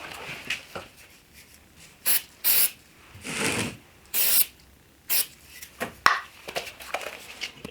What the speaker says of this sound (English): I will spray some activator on this.